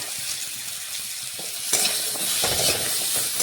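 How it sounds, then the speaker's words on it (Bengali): Potato pieces and carrot strips fry in a pan with a loud, steady sizzle, and the hiss swells as a spatula stirs and turns them. "দেখুন, আলুগুলো একবার আমি আবারও নাড়াচাড়া করে নিচ্ছি।"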